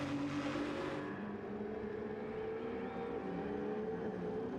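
A Ferrari Gr.1 prototype race car engine in Gran Turismo 7, a sustained high-pitched whine with smooth revving and gear shifts at moderate volume, holding steady with no voices.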